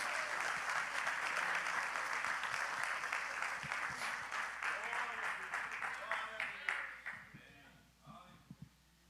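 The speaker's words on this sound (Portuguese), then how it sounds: "Dê uma salva de palmas para o Senhor" Congregation applause at a church service, dense sustained clapping from a crowd that gradually thins and fades, with a voice speaking over it and a few last claps at the end.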